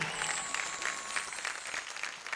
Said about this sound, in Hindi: जोरदार तालियां निमिषा के लिए